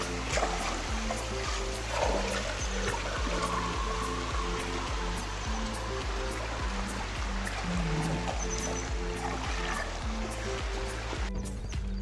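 A flooded river rushing after a night of heavy rain, at the village of Maniyari: a steady broadband roar of flowing water that holds constant throughout, with a low rhythmic rumble underneath.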